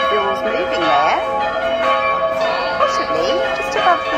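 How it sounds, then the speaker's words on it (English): Church bells ring out on a Sunday morning in a Tuscan village near Vicopisano, overlapping tolls with long shimmering decay, steady and fairly loud from a church just nearby. "Now, Sunday morning and the bells ringing at the church just outside."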